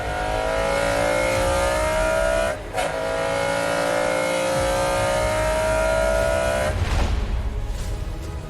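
A McLaren F1 road car on a high-speed run screams through the gears with a loud, rising engine note. Brief gear-change dips break it at two points, and the howl climbs steadily after each one.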